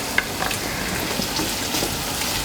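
Ginger and garlic sautéing with onions in a pan for mutton curry, a dense, even sizzle and crackle close up throughout, with no talk.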